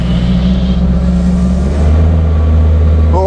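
A 400 hp RB30DET-powered Nissan Patrol runs on a dyno in fourth gear, a loud steady engine roar that deepens and strengthens partway through, heard alone without voices.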